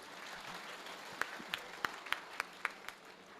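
Scattered, faint hand claps from an audience at a Hindi poetry recital (kavi sammelan) held at an ashram, a handful of sharp separate claps spaced irregularly over a quiet, hissy background.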